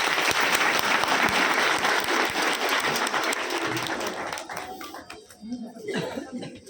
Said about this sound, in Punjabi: ਇੱਕ ਵਾਰੀ ਆਪਣੇ ਆਪ ਲਈ ਜ਼ੋਰ ਦੀ ਤਾੜੀਆਂ ਜ਼ਰੂਰ ਮਾਰੋ